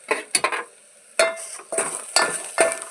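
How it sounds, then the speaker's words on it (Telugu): A spoon stirring endu royyala pulusu, a dried prawn curry, in a pot: a series of about seven sharp scraping clatters in an uneven rhythm, close and loud against a quiet background, with no talking. "ఇప్పుడు మంచిగా కలుపుకుందాం."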